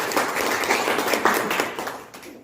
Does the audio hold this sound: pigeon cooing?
no